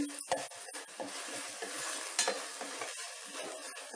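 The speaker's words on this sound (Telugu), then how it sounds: "ఆయిల్ పైకి వచ్చేంత వరకు కలుపుతూనే ఉండాలి" Thick masala fish curry being stirred in a steel pot on high flame, wet scraping and bubbling sizzle with intermittent clanks of a spoon against the pot, close by.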